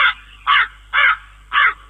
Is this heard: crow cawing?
yes